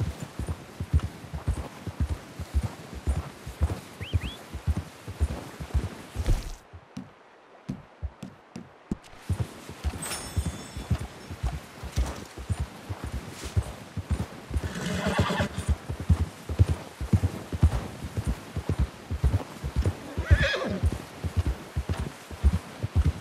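In Red Dead Redemption 2, a horse trots with a steady, close clip-clop of hooves and whinnies now and then, with a short quiet break partway through.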